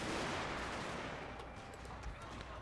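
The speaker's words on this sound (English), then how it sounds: "this line which is firing on the enemy" An infantry line fires muskets in Total War Shogun 2, a dense, continuous crackle of volley fire that thins slightly toward the end.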